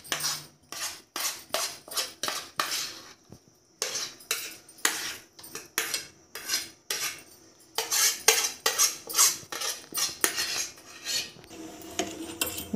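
A metal spoon stirs sugar syrup in a pan for chumchum, scraping and clinking against the metal in a steady run of repeated strokes, loud and close, with a brief pause partway through and no talking.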